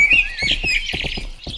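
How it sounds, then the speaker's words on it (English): Birds chirping loudly in the video game Rustler, with bright high calls and trills running the whole time above a soft rhythmic clopping of horse hooves underneath, and no talking. "Birds are so loud."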